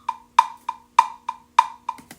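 Metronome click track built in Ableton, a series of sharp electronic clicks in a steady rhythm with some beats louder and others softer, close and alone.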